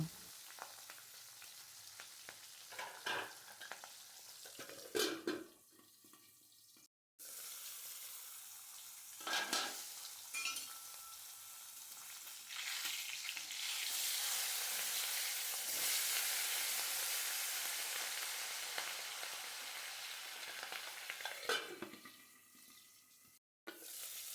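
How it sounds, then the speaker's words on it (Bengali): Two hilsa fish fry lightly in hot oil in a home kitchen, giving a steady loud sizzle and crackle that swells midway, with brief clatters and short pauses and no talking. "আমি ইলিশ মাছ দুটো আমি একটু হালকা করে ভেজে নেবো"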